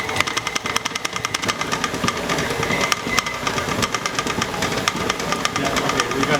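A stand mixer with a paddle attachment runs at medium speed through heavy cheesecake batter, giving a steady motor whir with a rapid, rhythmic knocking that stays close and constant throughout.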